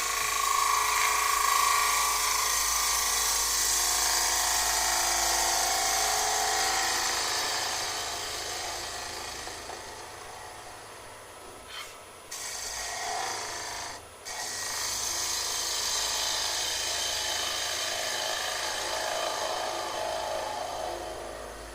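A bowl gouge cuts wood on a woodturning lathe with a steady, close rasping hiss that runs almost unbroken, dipping briefly twice as the tool lifts off and re-engages the spinning workpiece.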